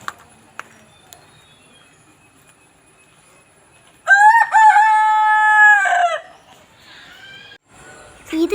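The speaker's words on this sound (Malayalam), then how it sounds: "കോഴി കൂവുന്നത് കണ്ടോ?" A rooster crows once near the middle, a loud close drawn-out call, with faint clucks and brief voices before and after.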